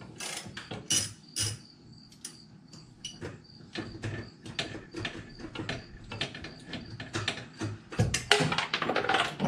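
A ratchet on an extension clicks in a fast, steady run of close, loud ratcheting strokes while loosening a nut on a Nissan 300ZX during brake booster and master cylinder removal, with short pauses between bursts.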